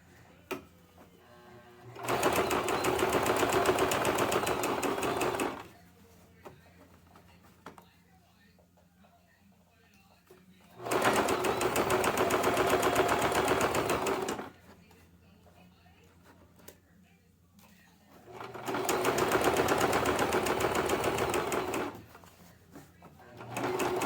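Sewing machine stitching fabric for a Lagombi armor scarf, running in three sustained loud bursts of about three to four seconds each, separated by quieter pauses with faint handling noise.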